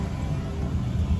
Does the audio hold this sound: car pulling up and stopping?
yes